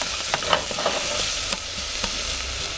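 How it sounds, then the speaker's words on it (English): Onions sweating with garlic salt in a pan, a soft steady sizzle broken by a few scraping stirs, close and moderately quiet with no talk. "Now these we don't want to take on too much color. We're just sweating them down."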